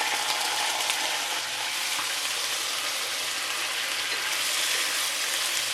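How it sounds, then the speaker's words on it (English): Cooked ground beef and sliced hot dogs fry together in a pan for Filipino-style spaghetti sauce, giving a dense, continuous close sizzle with faint stirring texture and no voices. "Add the cooked ground beef and then mix well"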